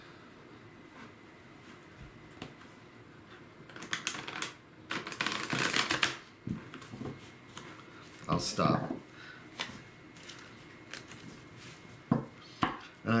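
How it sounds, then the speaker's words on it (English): A thick deck of playing cards is poker-shuffled in a few sharp, rapid riffling bursts with quiet gaps between them, close to the microphone, while a person talks softly in between. "I am so glad I figured out a way to shuffle cards."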